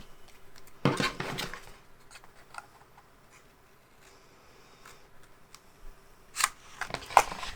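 Paper being cut for a mini album cover, a burst of crisp snipping near the start and a few sharper clicks toward the end, with quiet gaps between; no talking.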